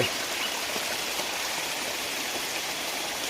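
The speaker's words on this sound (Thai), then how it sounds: "มีน้ำตกไหลลงมา ตามทางขึ้นไป" Water rushing down a waterfall at Phu Kradueng, Loei, Thailand, a continuous bright hiss of falling water, steady and close, with no talking.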